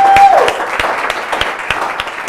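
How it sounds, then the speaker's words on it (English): Live audience applause on a quiz show, loud and close, with a dense clapping wash punctuated by regular sharp rhythmic claps, a brief tone sounding at the start. "So a round of applause,"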